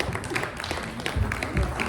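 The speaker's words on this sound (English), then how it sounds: "ladies and gentlemen, let's clap for the gentleman and the lady" An audience applauds speakers at an event on living with HIV/AIDS, a brief burst of clapping of moderate loudness with a few louder claps near the end.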